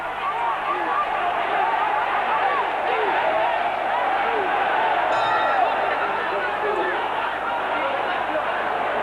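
A packed Muay Thai fight crowd roars in a dense, unbroken wall of cheering and shouting voices, loud and steady throughout with no single voice standing out.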